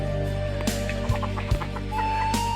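Free-roaming fowl cluck in short, close bursts over a loud, steady low hum, with a couple of sharp thumps and clucks spaced a second or so apart.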